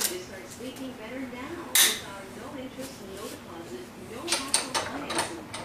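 A snap ring goes into the rear carrier of a TH400 automatic transmission clamped in a vise, with small metallic clicks, scrapes and one sharp snap amid quiet handling noise and a faint voice.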